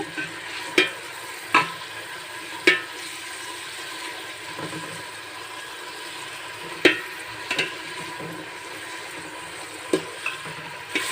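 Steady sizzling of mint frying in a large pot for a one-kilogram batch of pulao, broken by occasional sharp scraping clinks of a utensil stirring, with no talking.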